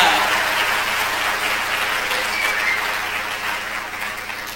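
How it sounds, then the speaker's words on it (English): Applause from the audience at the 1989 Tularosa Rose Festival Pageant, a broad steady wash of clapping that gradually fades slightly toward the end. "Let's have a great big round of applause for all of them."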